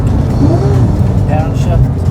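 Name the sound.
Porsche 911 GT3 engine blip during heel-toe downshift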